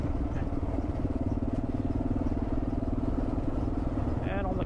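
Kawasaki KLR650 and Suzuki DR650 single-cylinder motorcycle engines run steadily at a low idle-like throb, loud and close with constant rumble from start to finish.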